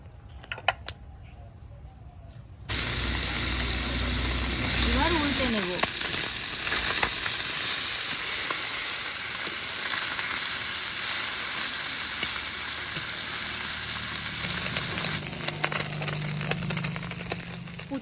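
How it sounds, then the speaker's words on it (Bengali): Small puti fish fry in oil in a kadai (wok), a steady, dense sizzle that bursts in loudly after a quiet start and holds close and strong throughout, with occasional stirring scrapes and no talking. "এবার কড়াইয়ে মাছ ভাজার জন্য তেল দিয়ে দেবো"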